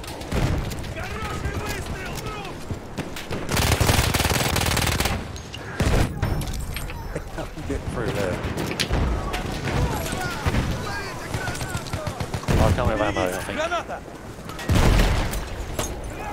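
Gunfire in a Battlefield 1 match, with bursts of rapid machine-gun fire from a Villar Perosa and other weapons, plus heavy booms, coming in loud waves between quieter stretches.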